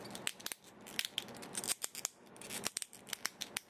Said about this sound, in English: I love those clicky joints.